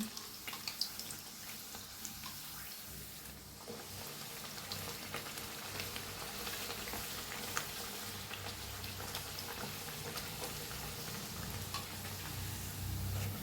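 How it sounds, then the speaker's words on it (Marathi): Puris deep-frying in hot oil, a soft continuous sizzle and bubbling heard close but faint, steady throughout with no talking. "छान तळून घ्यायचं दोन्ही साईडला."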